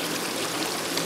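A small babbling brook flowing outdoors, heard as a continuous close rush and gurgle of water with no voices over it.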